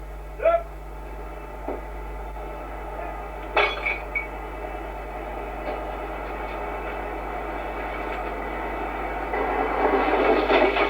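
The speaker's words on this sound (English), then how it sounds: "It is up to these young miners to manhandle the trams into position, ready for loading." Young miners manhandle coal mine trams into loading position in a Welsh colliery, giving a few sharp metallic clanks and bumps over a steady rumbling background that swells louder toward the end.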